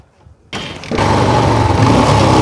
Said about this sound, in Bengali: আশা করি আপনারা গাড়ির চাউনটি শুনতে পারতেছেন অসাধারণ স্মুথ চাউন আছে